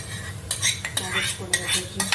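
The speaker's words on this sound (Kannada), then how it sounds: "ಈ ಫ್ರೈ ಆಗಿರೋ ಮಸಾಲೆಗೆ ಬುರ್ಜಿ ಹಾಕಿಬಿಟ್ಟು ಬುರ್ಜಿ ಹಾಕ್ತಾ ಇದ್ದೀನಿ" Egg bhurji being stirred into fried masala in a pan for egg fried rice, loud close metal scrapes and clatters of a spoon against the pan in quick irregular strokes over a faint sizzle.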